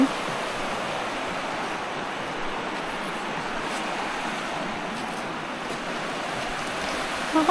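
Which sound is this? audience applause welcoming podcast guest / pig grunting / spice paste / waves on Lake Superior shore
waves on Lake Superior shore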